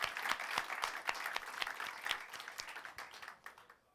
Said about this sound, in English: let's start from the big round of applause